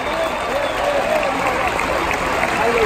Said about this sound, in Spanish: Big round of applause, fuerte aplauso for Hurricane Hogan y Jaime Munguía por este